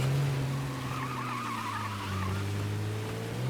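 A slow car in the video game Mafia: Definitive Edition drives and skids, its engine droning under a sustained tire squeal that wavers in pitch, loud and close throughout.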